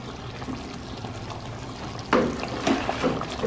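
Chopped tomatoes drop into a hot pan where carrots are already cooking for chicken macaroni, giving a sudden wet sizzle and splatter partway through that continues in bursts over a low background hiss, with no talking.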